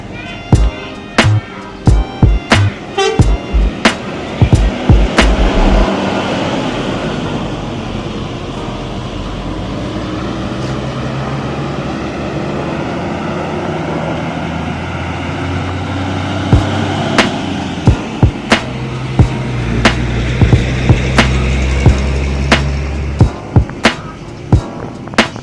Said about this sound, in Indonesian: Akhirnya bus PO ini berangkat meninggalkan Pesurunan